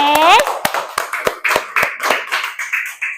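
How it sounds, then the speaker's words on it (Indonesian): A classroom of pupils claps in a rhythmic, evenly spaced pattern of sharp, loud beats, with a brief voice at the start before the claps continue alone. "Beri tepuk tangan dulu untuk kelompok 1 dari kelompok 4 yang tadi sudah berani menyampaikan pendapatnya"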